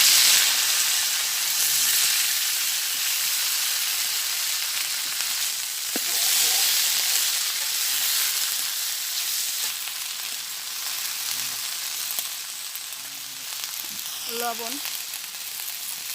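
Elancha shak greens with garlic cloves and radhuni seeds sizzle steadily in hot oil, a continuous bright frying hiss throughout with brief stirring clinks and faint talk near the end.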